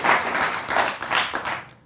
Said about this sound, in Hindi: आप तालियां चाहे जितनी बजवा लें और बजा लें